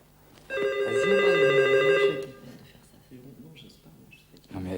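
A telephone rings with a steady electronic trill lasting under two seconds, followed by people talking in French over a quiet background.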